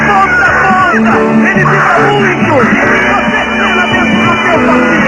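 A loud, packed crowd yelling and cheering at a Formula 1 race won by Ayrton Senna, a continuous roar of shouts and whoops without a break.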